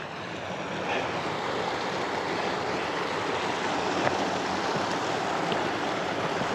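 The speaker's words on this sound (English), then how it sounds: "That there is just a natural flow of the river, I think, probably." A river flowing naturally below the Meldon reservoir dam, a broad, steady rushing of water, close and fairly loud, constant with no break.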